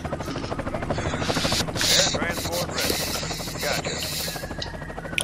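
A Chinook helicopter in the game Red Alert 2: Yuri's Revenge gives a loud, steady rotor chop and engine whine throughout, with game effects and a voice layered over it.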